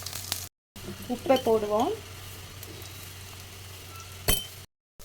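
Shallots and green chillies sauté in a pan with ginger and garlic, giving a low, steady sizzle under occasional utensil clinks and stirring, while a voice speaks briefly.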